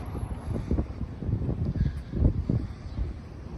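Outdoor wind in Kansas buffets the microphone in continuous low rumbling gusts that swell and ease for a few seconds, with no voices over it.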